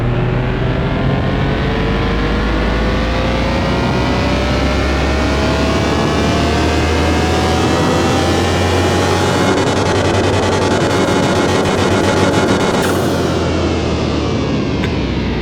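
A modded Toyota Supra engine tuned to around 1100 horsepower roars on a dyno in Car Mechanic Simulator 2021, climbing steadily in pitch through the gears, loud and continuous before cutting off near the end.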